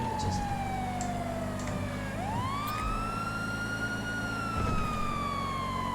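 A police siren wails on a Dacia Logan, the tone sliding down, then swooping up and holding high, loud over a steady engine rumble.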